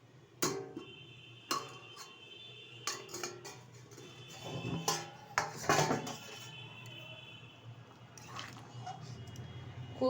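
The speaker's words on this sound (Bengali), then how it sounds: "ঢাকনাটা তুলে দিচ্ছি" A metal lid lifted off a pot of sambar dal cooked with vegetables, giving a few sharp clanks and clatters followed by quieter rattles, close by with no talking.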